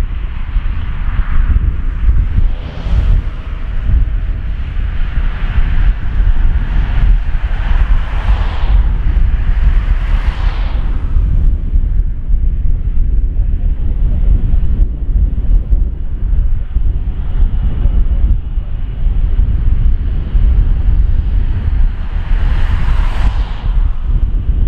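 An Airbus Voyager A330 tanker-transport at RAF Brize Norton, heading out on a refuelling sortie, makes a loud, steady jet roar with wind buffeting throughout, and the engine tone swells in several waves.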